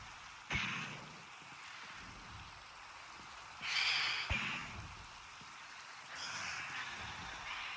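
Steady rain falls in the video game Minecraft, a continuous soft hiss of droplets with swells in intensity and a couple of brief sharp cracks, no talking.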